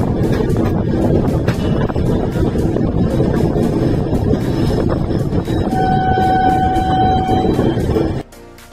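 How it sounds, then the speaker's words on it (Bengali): A moving passenger train on a long journey through Uttar Pradesh rumbles loudly and continuously with rhythmic clatter of wheels on rail joints and wind buffeting, a faint tonal whine appearing late before the sound cuts off abruptly. "ট্রেন এগিয়ে চলল আপন গতিতে।"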